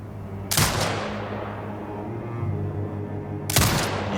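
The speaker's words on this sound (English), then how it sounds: "Exit binocular mode and command the turret to fire." Turret gunfire in Sniper Ghost Warrior Contracts 2, commanded onto marked hostiles in a desert setting: two sharp, loud broadband blasts about three seconds apart, each decaying over a steady low mechanical hum.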